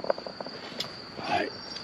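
Roadside crickets at night, a thin high steady trill running throughout, with faint rustling and a brief soft noise near the end, quiet and close.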